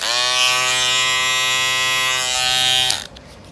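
A Wahl Retro T-Cut hair trimmer runs loudly and steadily with a strong buzzing hum for about three seconds, close up, then switches off abruptly.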